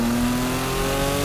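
A 1000whp Porsche 911 Turbo flat-six with a GT2 wing pulls hard on a straightaway, a loud, steady droning engine note with strong harmonics, heard close and without speech.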